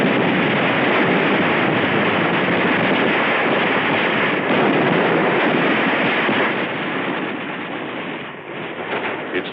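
Battle at Tarawa with Marines' rifle fire, flamethrowers and mortars, heard as a dense, continuous roar of gunfire and blasts that stays loud throughout and thins slightly near the end.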